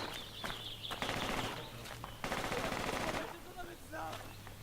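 Gunfire in a military video game, bursts of automatic shots and single reports crackling at mid distance, broken by short pauses, with a player's voice talking briefly over the action.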